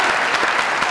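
A studio audience at a comedy talk show bursts into a short, close burst of dense clapping.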